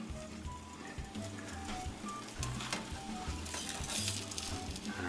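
A Kentucky-style Denver omelet sizzles steadily in a pan, with brief clatter and scraping as it is flipped partway through; no one speaks.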